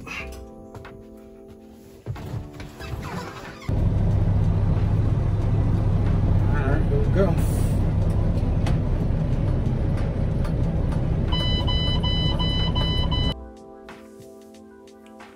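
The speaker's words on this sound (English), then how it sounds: "Time to drive this dump truck." A dump truck's diesel engine starts up and runs with a loud, steady rumble for about ten seconds before dropping away, after someone briefly speaks.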